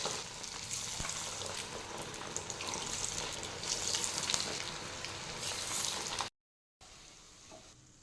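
Bottle gourd vadas fry in oil with a continuous bubbling sizzle for about six seconds. The sound then cuts out abruptly, and a quieter, fainter stretch follows.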